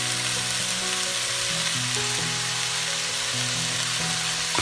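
Vegetables cook in a hot pan for Bombay tawa biryani, making a loud, continuous close sizzle with a shifting tonal hum running underneath.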